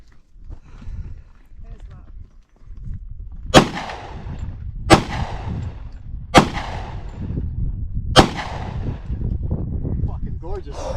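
Four loud, sharp .45 caliber pistol shots ring out one at a time, a second or so apart, in open desert near Tucson, Arizona, with people talking quietly between the shots.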